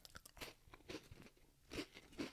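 Japanese Demon Slayer cheese crackers being crunched up close, several crisp bites and chewing crunches in an uneven rhythm, with no talk over them.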